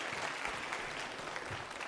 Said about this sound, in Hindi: तालियां बजाइए आप